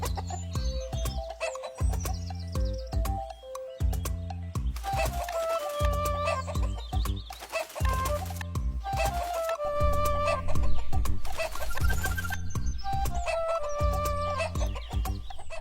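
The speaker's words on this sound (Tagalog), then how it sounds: "Maya-maya ay narinig niya ang ingay ng isang manok." Repeated chicken clucks and squawking calls ring out over lively, busy background music throughout.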